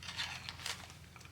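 An X-Acto knife slices through packing tape on a taped package, giving a short close scratchy tearing and crackling rasp lasting just over a second, with no talk.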